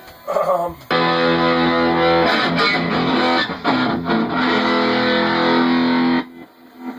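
A distorted electric guitar rings out through a Marshall JMP-1 preamp and tube amp, sustained chords held loudly, with brief pauses and a short noisy intro before.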